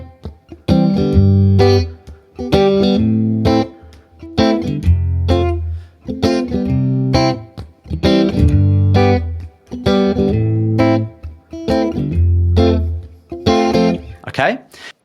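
An acoustic guitar strums a chord progression in a steady groove, with sharp percussive mutes landing on beats two and four, loud and close with no talking.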